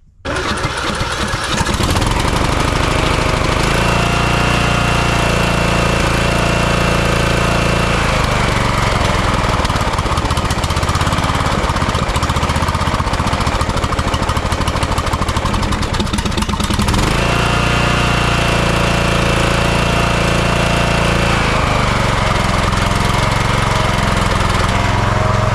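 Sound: Briggs & Stratton lawn mower engine running

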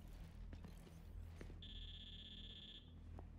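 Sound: console beep alert in video game Gears 5

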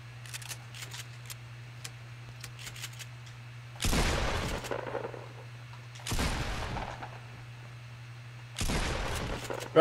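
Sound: gunfire and headshots in a video game shooter

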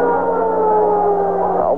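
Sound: siren in a football stadium

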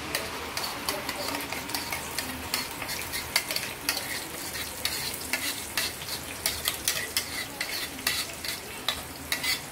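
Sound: masala paste frying and being stirred in pan

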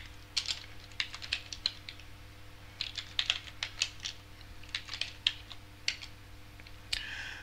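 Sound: typing an ethtool command on a computer keyboard

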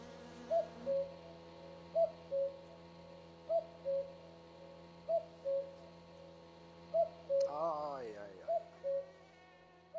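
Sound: cuckoo calling in My Summer Car video game

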